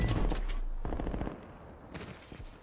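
Rapid video-game gunfire as an enemy player chases and shoots, heard as a dense burst of shots that thins into scattered, quieter reports.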